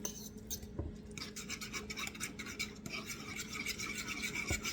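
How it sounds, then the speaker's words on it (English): A spoon stirs beaten eggs into a warm zucchini casserole mixture for a Greek-style bake, giving soft, quiet scraping and swishing strokes in an even rhythm, close by with no talk. "With heat added to them, I'm stirring this in."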